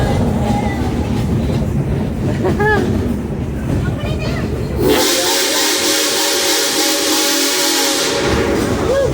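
A steam train whistles and then hisses loudly as it comes to a stop, a sustained whistle giving way to a broad, steady blast of escaping steam, with rumbling underneath.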